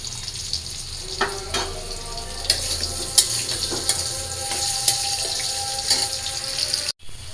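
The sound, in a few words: onions frying on the stove for dal tempering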